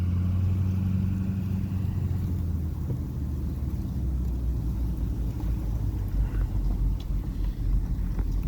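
A Ford F450 crew cab dually pickup drives through a state park campground near Windsor, Illinois, its engine a close, steady low rumble that continues without a break and with no voices.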